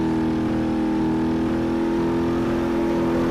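A dragster in BeamNG.drive spins its wheels, giving a loud, constant, droning engine whine with layered humming tones held steady throughout, without speech.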